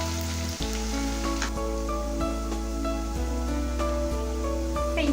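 Ginger and garlic paste frying in a pan for papaya pickle, a steady close sizzle with faint stirring scrapes running throughout, no voice over it.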